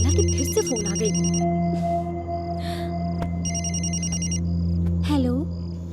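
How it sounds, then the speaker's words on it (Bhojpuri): A phone rings in a Bhojpuri comedy film scene, repeated bursts of a trilling electronic ringtone over a held musical tone, with brief voice sounds between rings. "पगला के फिर से फोन आ गई।"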